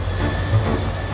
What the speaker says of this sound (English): And who should hop onto the next train to Cardiff but David Lloyd George?